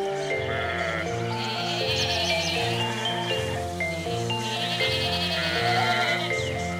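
A flock of sheep in pasture bleats loudly and repeatedly, several overlapping wavering calls close by, with a faint tinkle of bells in the background.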